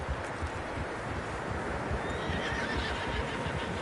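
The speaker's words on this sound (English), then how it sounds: "Horses, quite a few of them." Several horses whinny and neigh with a steady patter of hooves, set in the Red Dead Redemption 2 video game; fairly faint and continuous, with no talking.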